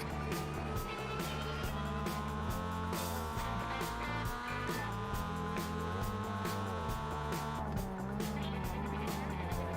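Several Mazda Miatas race in a muddy dirt-track enduro at night, engines revving and droning continuously with rising and falling pitch as cars jostle close together, loud and sustained.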